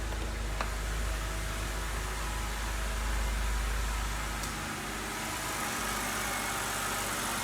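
A car engine idles steadily after a three-stage intake manifold swap, a low continuous hum with broadband hiss holding at even loudness throughout, with no talking.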